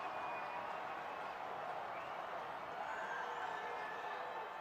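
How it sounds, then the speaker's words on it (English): A large high school football crowd at a 6A state tournament game, American Fork against Lone Peak, roars steadily for the whole stretch, a dense, sustained wash of cheering voices from a packed stadium. "The AF crowd at full throat."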